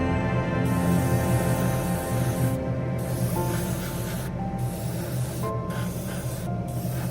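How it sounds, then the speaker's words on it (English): A small airbrush sprays automotive paint onto a 1/24 scale BMW M4 G82 wide-body model car, giving a steady close hiss broken by short pauses between passes. "Did not feel difference spraying this automotive paint with a smaller airbrush."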